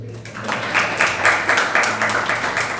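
A seated audience at a religious discourse claps together, a steady, moderately loud patter of many hands lasting a few seconds, with no talk over it.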